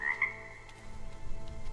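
A frog croaks in the video game RIME, a short steady croak that stands out loud and close at the start, then trails off under a low ambient game bed.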